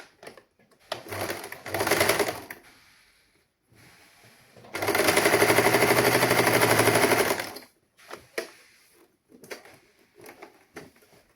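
A sewing machine stitches the neck of a saree blouse in loud, close bursts: a short run, then a long steady stretch of rapid stitching, followed by a few light clicks.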